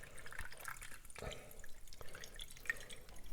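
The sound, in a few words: cold brew coffee dripping through V60 paper filter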